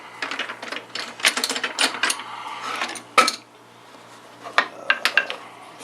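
Clamps being released and lifted off a glued-up wooden cutting board held with tape, giving clattery metallic clicks and rattles in close bursts, a sharp knock midway, then a few more clinks, with no talk.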